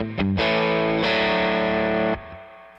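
Overdriven electric guitar chords through a Fender Deluxe Reverb tube amp ring out loud and thick with crunchy distortion, a couple of strums sustaining before fading.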